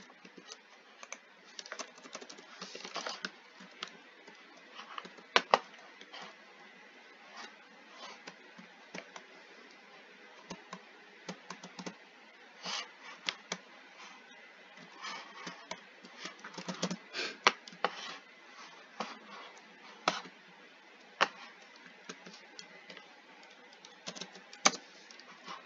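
Steady clatter of keys being typed on a computer keyboard during a Minecraft session, irregular bursts of taps running throughout with no voices.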